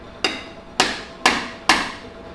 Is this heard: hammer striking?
yes